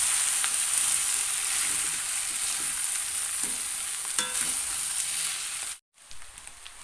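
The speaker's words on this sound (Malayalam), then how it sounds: "നമുക്കതിലേക്ക് നമ്മളെ ബിരിയാണി റൈസ് ഇട്ടു കൊടുക്കാം നമ്മളത് നല്ലോണം മിക്സ് ചെയ്ത് എടുക്കാം" Leftover biryani rice being mixed in a frying pan, a steady hissing sizzle with occasional scrapes and taps, close and continuous, briefly dropping out near the end before resuming.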